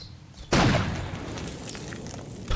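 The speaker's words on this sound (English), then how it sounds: "Alright, let's fire the cannon." A sudden heavy boom from a cannon firing in the video game Walden and the Werewolf, followed by a rumbling tail and a second smaller thump near the end.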